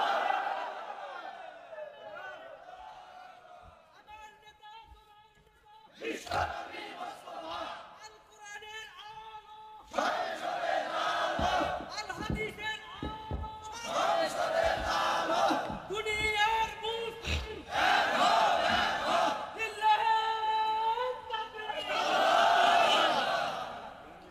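A crowd at an Islamic waz mahfil sermon in Jaldhaka shouts takbir, Allahu Akbar, in repeated loud surging chants of many voices, rising and falling in waves after a preacher's call.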